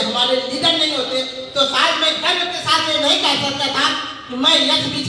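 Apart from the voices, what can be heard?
No everyday noises stand out.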